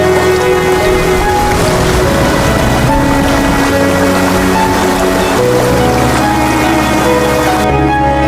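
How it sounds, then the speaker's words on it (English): Pouring rain falls in a dense, continuous hiss, with a soft musical drone running under it and no voices. "In the pouring rain"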